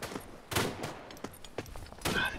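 Artillery fire in the WWI video game Tannenberg: a rapid cluster of sharp, mid-distance blasts and bursts, several in quick succession over a couple of seconds.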